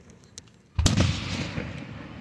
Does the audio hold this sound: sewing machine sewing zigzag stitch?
no